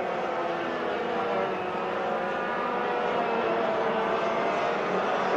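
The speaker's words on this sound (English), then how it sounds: "Wayne Gardner trying to choke the carburetor, i.e. reduce the airflow, richen the mixture by covering the air intake, the air filter with his hand." A 1987 racing motorcycle engine roars steadily and loudly with a rough, dense tone while the rider covers the carburetor's air intake by hand to choke it, with no talk.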